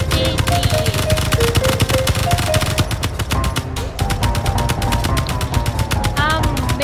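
Rapid automatic gunfire from a mech's gun in the game Space Engineers rattles loud and continuous in dense bursts, with only a brief dip partway through.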